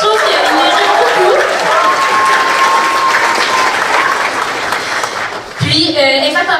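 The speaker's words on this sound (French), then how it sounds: "on peut encore les applaudir" Audience applause at an evening event honouring hosts and masters of ceremony, loud sustained clapping with crowd noise and a faint tone running underneath, ending in a brief burst of voices.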